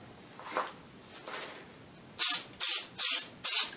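Adhesive spray hissing onto a 1984-1996 Corvette headliner in four loud, evenly spaced bursts, each about a third of a second, after a couple of faint handling noises.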